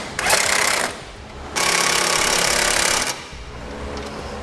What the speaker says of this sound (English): we'll take a 19 millimeter socket, 19 millimeter wrench, and we can tighten up our